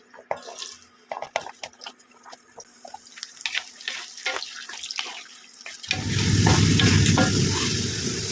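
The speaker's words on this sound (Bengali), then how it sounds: "প্রথমে তরকারিগুলো এক এক করে ভেজে ভেজে তুলে নিচ্ছি" Vegetables frying in oil in a pan, with potato and sweet potato fried one at a time: soft crackles and stirring at first, then a loud, dense sizzle when pieces hit the hot oil.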